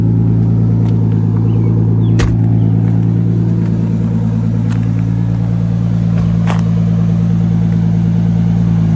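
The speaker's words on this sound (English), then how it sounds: "You can leave it running so we can get some exhaust notes." A single-turbo Toyota Supra engine idles steadily with a low, even rumble and a faint whine, close by, with a couple of brief clicks.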